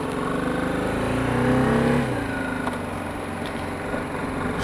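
A BMW G 310 GS motorcycle engine revs up under acceleration, its rising drone peaking and then shifting down to a steadier running tone as the bike pulls away, heard close and loud.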